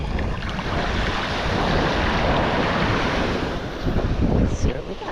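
Surf washing onto a Gulf beach at Manasota Key, a steady broadband rush of breaking waves mixed with wind buffeting the microphone, loud and continuous with a swelling surge near the end.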